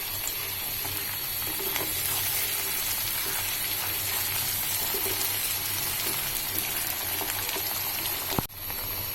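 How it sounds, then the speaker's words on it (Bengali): Masala with salt and tomato sauce sautéing in a pan for BBQ beef liver, a steady dense hiss of sizzling that runs throughout, with a brief knock near the end. "কিছুক্ষণ কষাবো।"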